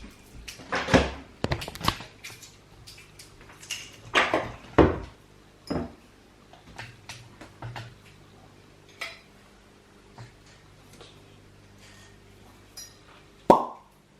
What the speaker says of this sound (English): I'm going to open this wine. It's got a natural cork, as I said.